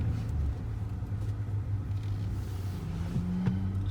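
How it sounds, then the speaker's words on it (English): A school bus engine rumbles steadily as it drives into a KOA campground in Sweetwater, Tennessee, a low continuous drone with road noise close by and no talking. "So the school bus is going into the campground too."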